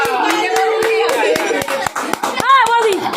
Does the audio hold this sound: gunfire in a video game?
no